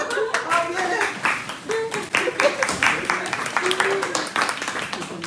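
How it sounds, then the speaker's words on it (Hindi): A small group gives a round of applause for a hard-working labourer at a work site, a dense run of close hand claps going on steadily while voices talk over it. "सो अभी उनके लिए ज़रा राउंड ऑफ अप्लॉज भी करेंगे।"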